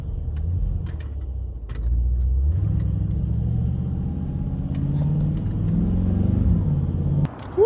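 A 2023 Mercedes-AMG G63 with its twin-turbo V8 rumbles loudly from inside the cabin, engine note rising and falling as it accelerates, with a few small clicks over the drone and no talking.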